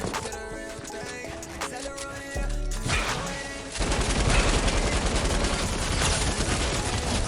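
Rapid gunfire from a weapon in a console video game, dense repeated bursts that swell louder partway through and continue over a busy game soundscape, with no voices.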